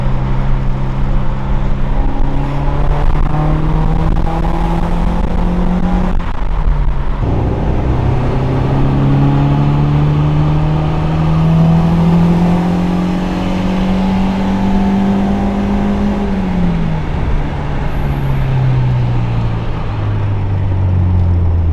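A car drives along the road with a steady engine drone, the pitch rising and falling as it shifts through gears and accelerates, close and continuous throughout.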